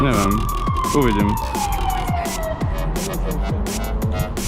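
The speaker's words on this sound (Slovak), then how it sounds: "To je sanitka, ti hovorím." An ambulance siren wails with a steady rising and falling tone, heard from a city rooftop among traffic noise, while people talk nearby.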